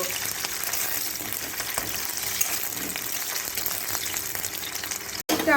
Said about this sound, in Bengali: তেলের মধ্যে পেঁয়াজ কুচি দিয়ে দিলাম পেঁয়াজটাকে হালকা হালকা করে একটু ভেজে নেব